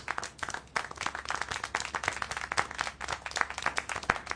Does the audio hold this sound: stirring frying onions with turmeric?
no